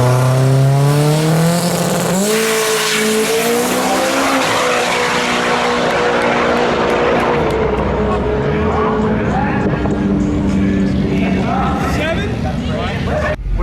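A loud compound-turbo Honda S2000 drag car roars off down the strip, engine revving high through gear changes, tires briefly squealing, the whine fading as it speeds away.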